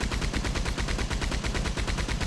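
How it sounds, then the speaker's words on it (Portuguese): Rapid, continuous gunfire in the video game Red Dead Redemption 2, a dense burst of shots like a machine gun, loud and steady throughout with no voices. "Escutou os tiros aqui, vazou."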